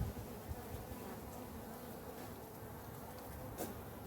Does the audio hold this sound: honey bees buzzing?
yes